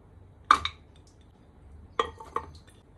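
Cleaned mutton trotters drop into a pressure cooker pot, making a few sharp, close clanks and knocks spaced apart in an otherwise quiet kitchen.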